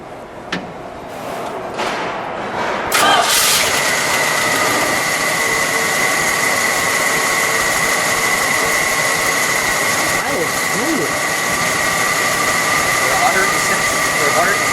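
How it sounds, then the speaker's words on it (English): A 1978 Dodge Li'l Red Express pickup with a 360 V8 cranks over and catches near 3 seconds, then settles into a steady, loud, even idle that runs to the end. "let's fire it, shall we? We'll let it idle, and then we'll give it a little rev"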